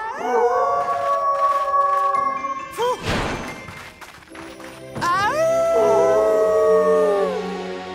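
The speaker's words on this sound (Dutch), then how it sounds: "Oh nee, dat klinkt als nog een wolf." Long, wavering wolf howls in a PAW Patrol cartoon rise and fall, one after another, with a brief noisy burst in the middle; loud and close, with jingly background music.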